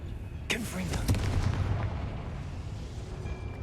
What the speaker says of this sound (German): So eine fette Explosion.